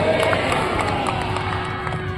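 A crowd claps and cheers together in a dense, continuous burst of applause, loud and close, with scattered shouts mixed in, at an honouring during a religious saints' gathering, followed by a chant of "Jai Shri Ram".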